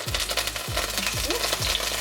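Spicy tuna and anchovy paste sizzles and fries in a pan for soondubu, a steady close crackle broken by a few soft rhythmic knocks of stirring.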